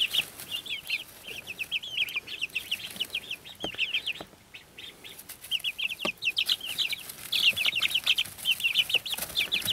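Silkie chicks cheep and cluck in quick, high-pitched bursts, a busy chorus of several birds close by with a brief lull midway and louder chirping toward the end over faint background noise.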